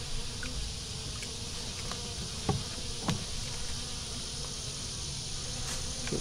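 Honey bees hum steadily around an opened beehive, a dense continuous buzz with occasional closer individual bees and faint clicks of handling.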